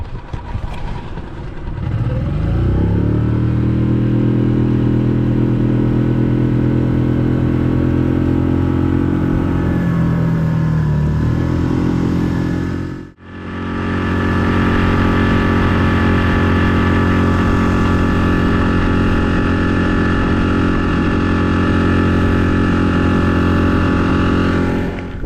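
A small 6 horsepower outboard motor drives a Seacron 270 boat on a cruise, with a steady, loud engine drone that holds through the passage apart from one brief dip midway.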